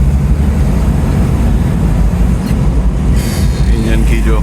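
A 1988 Toyota Land Cruiser 60 Series on a test drive after an engine overhaul, a loud steady low engine and road rumble with a brief rattling burst near the end.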